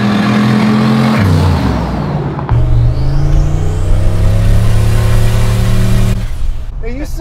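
An LS turbo Chevy C10 sleeper engine revs loudly up close, shifts, then climbs in pitch and pulls away, holding a strong, continuous roar.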